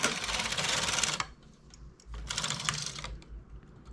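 A home knitting machine's carriage is pushed across two rows of colored slip-stitch knitting, making two loud, rattling, clattering sweeps separated by a quieter pause with light mechanical clicks.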